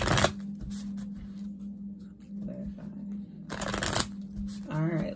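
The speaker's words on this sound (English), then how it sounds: "I'm giving you three more shuffles" Tarot cards being shuffled in quick riffling bursts, near the microphone, with a steady low hum and a brief voice near the end.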